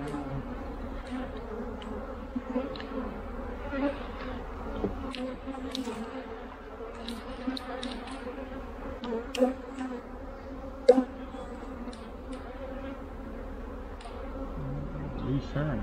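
Honey bees buzz at an opened hive, a steady close hum of many wings throughout, with occasional clicks and handling noises of frames.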